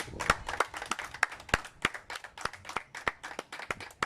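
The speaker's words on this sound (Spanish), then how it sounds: "Denle un aplauso a Dios." A small church congregation clapping during a sermon, scattered and uneven, moderately close, for a few seconds without talk.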